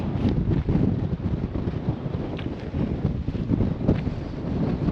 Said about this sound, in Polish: Wiatr straszny.